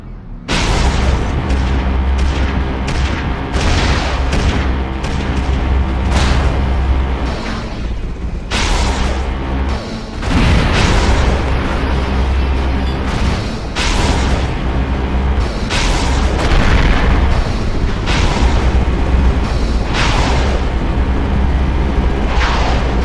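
A flying saucer levelling a city in Destroy All Humans! on Xbox 360, a sustained barrage of heavy booming explosions and crashing buildings, loud and continuous with rhythmic blasts throughout.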